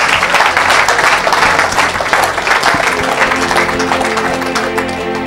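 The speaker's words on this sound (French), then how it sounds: "Acclamez pour Jésus." An audience at a religious deliverance service applauds, a dense, loud, continuous wash of clapping with a faint voice underneath.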